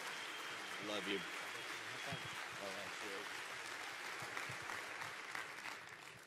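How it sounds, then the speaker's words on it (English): Faint applause from a church congregation for Pastor Robert Furrow and his wife, a quiet continuous patter of clapping at a distance with murmuring voices mixed in. "Let's give Pastor Robert Furrow, his bride Kathy, a huge round of applause"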